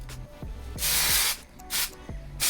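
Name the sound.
spraying hairspray on long hair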